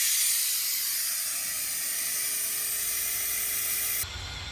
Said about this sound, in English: Gonna let the tyres down a little bit now.